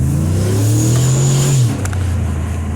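A 2011 GMC 2500 pickup's 6-liter V8 engine, tuned, revs up loudly nearby, its pitch climbing for over a second before dropping back to a rumbling idle.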